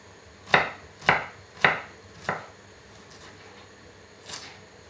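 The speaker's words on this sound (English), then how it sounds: "Okay, so these ones, just give it a fine chop." A knife finely chops cooking ingredients on a board, giving four crisp, evenly spaced strikes close up. A softer fifth cut follows after a pause, with no talking.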